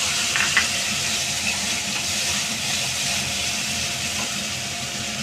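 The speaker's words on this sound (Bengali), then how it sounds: "একটা টমেটো বেটে রেখেছিলাম, সেখানে আদা, রসুন, পেঁয়াজ আমি বেটে রেখেছি দিয়ে দিচ্ছি।" Tomato, ginger, garlic and onion paste frying in a hot pan, giving a dense, steady hiss and sizzle close up with a few faint clinks early on.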